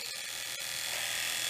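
An old electric razor trims along a hairline, a close steady buzzing hum with a couple of brief clicks as it moves over the hair.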